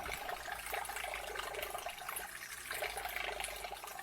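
A magnetic stirrer spinning water into a vortex at max power, a steady, faint swirling, constant churning wash with a low hum underneath, with no voices.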